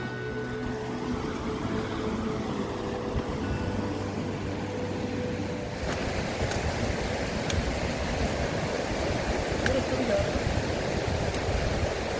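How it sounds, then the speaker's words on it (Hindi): A river rushes beside a trekking trail in Kumrat Valley, a steady broadband roar of flowing water that runs the whole time, with people talking over it and a few sharp clicks. "दरिया के किनारे किनारे पानी के शोर के साथ"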